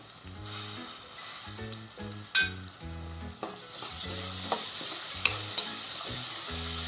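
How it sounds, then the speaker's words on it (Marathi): Tomatoes sautéing with browned onion and a pinch of asafoetida in a pan, a close sizzle broken by rhythmic scraping stirs, about two per second, with a few sharper clinks of the spoon against the pan. "टोमॅटो पण नरम होईपर्यंत परतून घेऊया."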